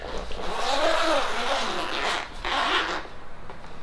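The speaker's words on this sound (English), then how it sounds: "Alright, time to unzip." A zipper rasps open on a newly bought item, one continuous close-up pull lasting a few seconds, with a brief pause before the final stretch.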